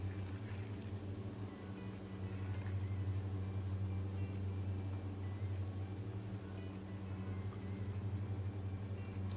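A Diamond DA42 twin-engine aircraft in Microsoft Flight Simulator 2020 hums along in cruise, its propeller drone a steady low, even tone that stays constant and fairly quiet throughout, with no talking.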